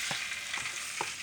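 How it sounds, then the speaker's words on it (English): Filling for a sweet potato pie hitting a hot pot, a steady close hissing sizzle with a few soft stirring thumps, no voices. "Don't mind that frying sound."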